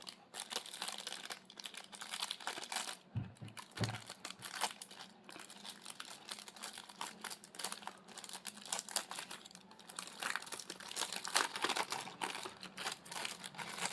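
Paper-wrapped packaging of a credit card wallet is unwrapped and torn, giving a continuous close crinkling and rustling with scattered sharp crackles and no speech.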